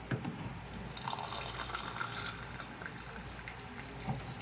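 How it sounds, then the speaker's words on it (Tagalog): Drinking water poured into a glass at home, a soft continuous trickle and splash with small gurgling fills, close by and fairly quiet, with no talking. "So lalagyan ko na po ito ng tubig."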